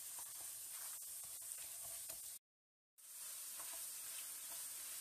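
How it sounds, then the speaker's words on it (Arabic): Rice stirred and frying in butter in a pan, a steady soft sizzle with faint scraping stirs, cut by a brief silent gap midway. "ونواصل التحريك باش الرز يتقلب بالكدا ويشرب الزبده هذيك"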